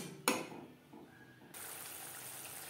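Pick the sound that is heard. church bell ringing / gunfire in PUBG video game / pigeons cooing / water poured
water poured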